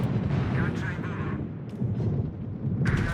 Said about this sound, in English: As you can see, secondaries do go off.